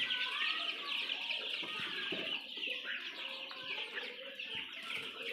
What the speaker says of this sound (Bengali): টাইগার মুরগির কীভাবে পালন করতে হয়